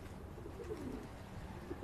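Soft, low cooing from racing pigeons at the loft, with a few murmured coos over faint background noise.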